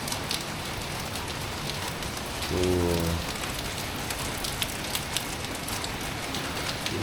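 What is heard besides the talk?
heavy rain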